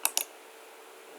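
Computer mouse right click: two quick, crisp clicks close together at the start, then faint room hiss.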